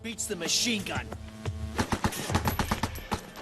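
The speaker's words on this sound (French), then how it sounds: "Pour saturer de balles l'adversaire, il n'y a rien de mieux que la mitrailleuse." Machine gun fire in rapid, sharp bursts that grow denser toward the end, loud and close, over a brief stretch of rumbling background.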